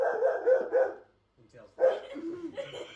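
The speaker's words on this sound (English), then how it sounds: "Sorry, that was my dog." A dog lets out a few barks or yips close by, mixed with people talking, then stops briefly before more voices follow.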